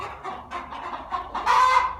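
A hen clucks softly in a coop with her chick, a run of short repeated clucks at close range, rising to a slightly louder, drawn-out call near the end.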